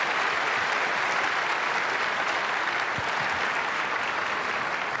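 A church congregation gathered for an early-morning prayer service applauds, a dense, steady wash of many hands clapping throughout, close and loud, with no talk over it.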